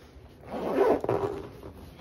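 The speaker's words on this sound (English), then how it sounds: "And you can zip it, it's got a zipper." A zipper is pulled along a carry-all bag in one smooth, close pass lasting about a second, with a slight catch near the end, alone in a quiet room.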